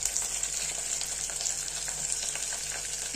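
Curry leaves sizzling in hot oil with onions for a Tamil mutton and potato curry, a dense steady crackle and hiss close up, with no voices.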